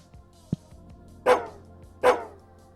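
A dog barking in the video game Psychopomp GOLD, two sharp, clear barks about a second apart after a brief thump, otherwise quiet.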